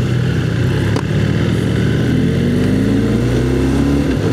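A BMW GS 1300 boxer-engine motorcycle revs steadily while climbing a hill, its loud, continuous engine note rising gradually in pitch and filling the ride without any voices.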